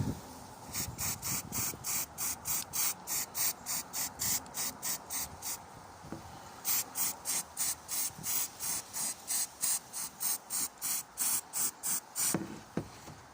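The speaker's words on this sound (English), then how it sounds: "I know I'm spraying really close to the model today" Repeated short bursts of aerosol spray paint hissing very close to a Warhammer 40k Goliath model, in quick rhythmic pulses with brief pauses between groups, no talking.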